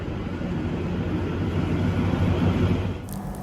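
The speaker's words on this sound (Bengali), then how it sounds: "এই ট্রেনটা আবার ব্যাক করছে ওইদিকে" Low rumbling engine and rolling wheels of the Kalka–Shimla toy train reversing slowly at Shimla station, steady and close, with a brief clatter at the end.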